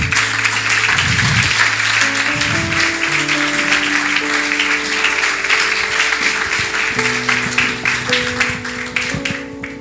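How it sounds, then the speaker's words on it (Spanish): A church congregation claps loudly and steadily, the dense rhythmic applause mixed with sustained music playing underneath. "darle un fuerte aplauso a Dios"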